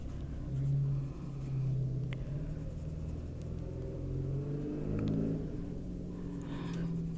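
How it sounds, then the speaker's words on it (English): A car driving on snow rumbles and revs at a steady distance, its engine note rising and falling in a low, continuous drone with no talking. "This car's trying to drive around on the snow."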